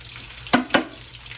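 Shrimp deep frying in hot oil give a steady sizzling hiss, broken by two louder splashy bursts as more pieces drop in, close and without talk.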